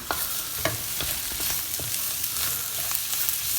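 Onion and garlic sizzle steadily as they soften in a pan, a close, continuous frying hiss broken by small crackles and scrapes from stirring. No one speaks.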